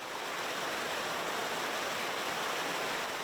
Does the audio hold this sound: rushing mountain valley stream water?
yes